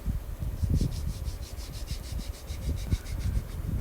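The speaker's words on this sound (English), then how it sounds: "I also sand and clean up the parts as much as possible to ensure a fine, good fit." Fine, rapid back-and-forth sanding strokes on small plastic parts for a 1/24 Audi Sport Quattro S1 scale model car, a soft scratchy rhythm close by and alone.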